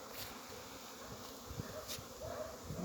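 Honeybees buzz steadily and continuously in early December, a close, sustained hum with a few brief louder passes near the microphone.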